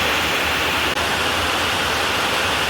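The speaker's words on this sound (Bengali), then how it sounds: "ড্রেনের জলটা দেখো কিরকম স্পিডে যাচ্ছে" Drain water rushing forcefully along a channel near a pond, a steady loud roaring wash of water that continues without a break.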